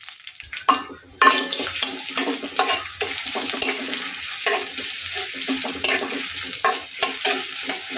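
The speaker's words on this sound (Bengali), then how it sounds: "পেঁয়াজগুলো একটু নাড়াচাড়া করে ভেজে নেওয়ার পরে" Chopped onions fry in soybean oil in a pan as they are stirred, giving a steady crackling sizzle broken by scraping stirring strokes, close and with no voices.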